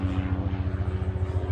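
A helicopter passes overhead with a loud, low rhythmic rotor thump and a steady droning engine tone, pulsing evenly throughout.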